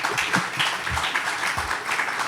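A steady wash of applause at a podcast recording, dense clapping from a crowd sustained throughout without pauses.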